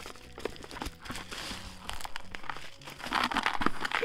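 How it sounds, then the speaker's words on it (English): Close, continuous crinkling and scraping while a slit is cut into a tightly taped mail package, the noise growing louder toward the end, with no talking. "I might have to cut a little slit here on the side."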